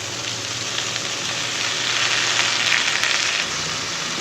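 Vegetables hit hot oil and fry with a loud, dense, close sizzle that holds steady for several seconds before easing off slightly near the end. No voices are heard.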